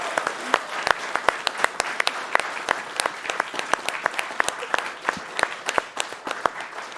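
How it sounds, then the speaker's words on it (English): An audience at the RPG Limit Break 2022 finale, a hybrid charity gaming event, breaks into sustained applause, a dense field of clapping hands close and steady for several seconds. "Let's all give them a big round of applause."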